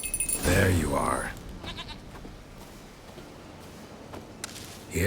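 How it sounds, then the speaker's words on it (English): A goat bleats loudly and close in The Witcher 3 video game, one wavering cry at the start, followed by quieter outdoor ambience and a faint short sound at the end. "Here, goat."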